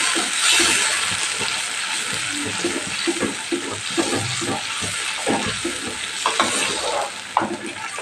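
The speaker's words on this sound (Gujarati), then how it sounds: "સરસ મિક્સ કરીને આ પ્યુરીને પણ આપણે સાતડી લેવાની છે" Spinach puree with cashews sautéing in oil in a pan for Punjabi palak paneer: a loud, continuous bubbling sizzle with repeated stirring scrapes, close by.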